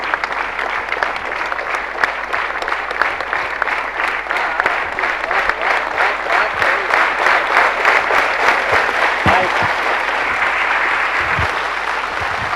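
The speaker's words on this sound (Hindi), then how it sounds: "ये सारी ऑडियंस आपको सम्मान देने के लिए उसकी जगह पे से खड़े होके ये तालियों से आपका सम्मान कर रही" An auditorium audience stands and claps in a sustained ovation for a National President's Award winner on stage, dense, loud applause swelling slightly over twelve seconds with a few sharper individual claps.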